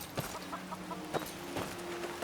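Chickens clucking in the modded game Skyrim in the Riverwood area, several soft clucks spaced irregularly over a low ambient background.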